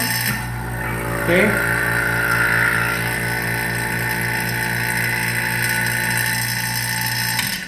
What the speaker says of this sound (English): I got my vacuum pumps on.